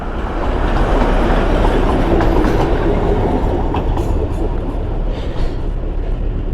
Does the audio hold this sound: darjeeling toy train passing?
yes